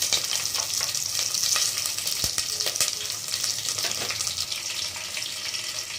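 Mustard seeds with dried red chilies and green chilies sizzle in hot oil as a tempering for bisi bele bath, a continuous close, bright crackle with occasional sharp pops, no voices.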